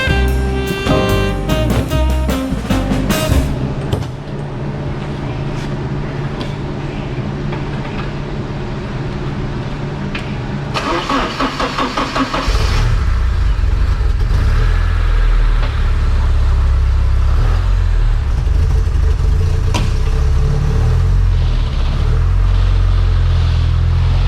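A 1985 Porsche 944 engine cranks and catches in a burst of stuttering bursts, then settles into a steady, loud, close idle with a deep rumble that continues alone to the end.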